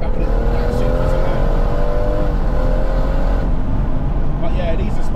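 A BMW M140i's stage-tuned B58 engine revs hard and holds a loud, droning pitch, the roar steady and close throughout.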